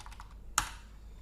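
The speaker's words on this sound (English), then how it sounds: "my typing's off today." Quiet keystrokes on a computer keyboard: a few soft taps, then one sharper, louder click, in a hushed room with no talking.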